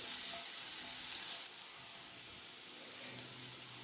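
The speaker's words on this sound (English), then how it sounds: "we can go ahead and give our fennel a toss. See, because we let it sit, we've got some browning going on" Fennel browning in a hot pan gives a steady, quiet sizzle, a soft continuous hiss with faint crackles running evenly throughout.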